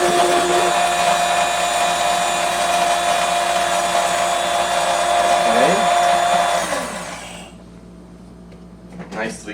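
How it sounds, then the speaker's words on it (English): An electric grinder grinds food with a loud, steady high-pitched whine that winds down and stops after about seven seconds, followed by a brief rattle. "Grind them up."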